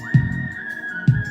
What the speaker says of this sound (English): Yeah, I'm gonna bring whistling back.